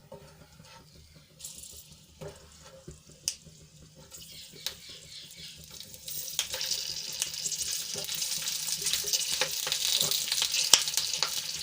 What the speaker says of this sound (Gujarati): આપણી રાઈ ફૂટી ગઈ છે તો એમાં તળવા માટે આપણે મરચાં મૂકી દઈશું.